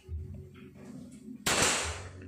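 A PCP air rifle with a 55 cm barrel fires a single shot during a 25-meter accuracy test, one sharp loud crack that bursts out suddenly after a quiet moment of faint low background noise.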